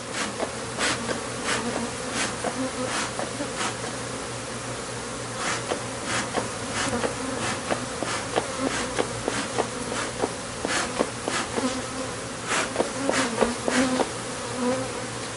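A dense, continuous drone of many honey bees buzzing close by as hive frames are handled, with scattered knocks and bumps breaking through the hum.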